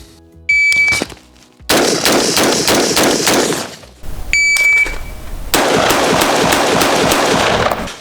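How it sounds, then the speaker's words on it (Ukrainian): Rapid, loud carbine gunshots crack out in two quick bursts, six shots in all, each burst preceded by a short electronic timer beep, with brief pauses between, during target practice. "Запускаємо таймер, здійснюємо 6 пострілів в мішені"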